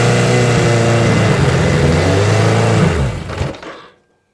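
Suzuki GS1000 motorcycle engine running loud and close with a steady revving drone, then cutting out and falling silent near the end.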